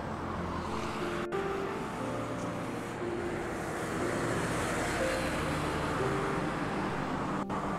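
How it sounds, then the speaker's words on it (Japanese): Heavy road traffic on the busy Kitazaki Bridge overhead rumbles down into the park below as a dense, continuous roar of passing cars and vibration, loud and unbroken, with a couple of sharp thumps. "車の走行音や振動が下の公園にも結構うるさく響いてきます"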